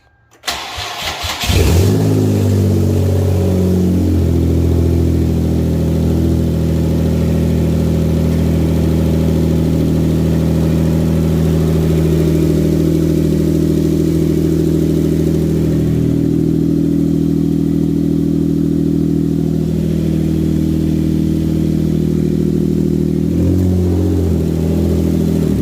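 A Hyundai Genesis 3.8L engine, freshly swapped in, cranks and catches after a brief start, then runs loud and steady with a strong low hum and a few rises in revs, running rich throughout.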